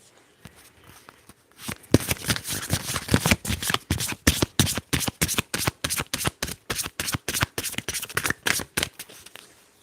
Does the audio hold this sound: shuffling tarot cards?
yes